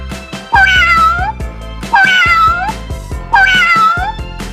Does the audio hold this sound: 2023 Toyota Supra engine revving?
no